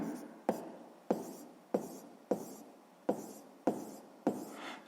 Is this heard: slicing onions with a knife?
no